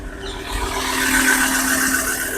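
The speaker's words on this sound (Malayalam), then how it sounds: "ഇനി നമുക്ക് ഇതൊന്ന് സ്റ്റാർട്ട് ചെയ്തിട്ട് ഇതിൻ്റെ സൗണ്ട് ഒന്ന് കേൾക്കാം" A Ford Endeavour 4x4 engine runs at a steady, smooth idle, close and even with a constant mechanical hum and no talking over it.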